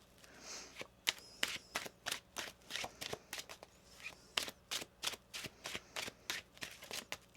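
Repeated crisp riffling and snapping of tarot cards being shuffled, a steady run of sharp bursts close by with no talking.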